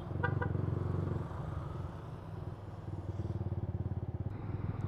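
A big bike motorcycle engine chugs nearby with a rapid, throbbing idle that dips briefly and then rises again into a pulsing rev, loud and steady with no talk.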